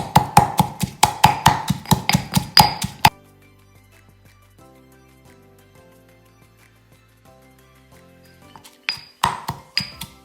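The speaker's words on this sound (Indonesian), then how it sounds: "tapi kita masih tumbuk lagi" Shallots and chili pounded in a mortar for Indonesian sambal: a quick run of sharp, evenly spaced stone taps, a quiet pause with faint background tones, then a few more loud close strikes.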